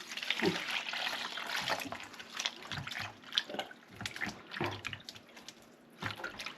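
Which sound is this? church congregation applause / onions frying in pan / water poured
water poured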